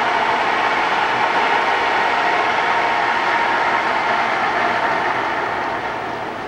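A Fosdick radial arm drill's spindle runs at 750 RPM, giving a steady, moderately loud mechanical whir and hum that holds evenly throughout and fades slightly at the end.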